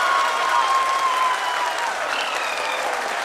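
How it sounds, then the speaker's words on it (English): Sustained applause from a large crowd greets the Chandrayaan-3 lunar landing, a steady dense wash of clapping that carries evenly from start to finish. "People are applauding."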